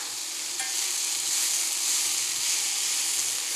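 Goji berries sizzle steadily in a hot sauté pan, a bright, even frying hiss that runs loud and close without pause, with a light stir near the start.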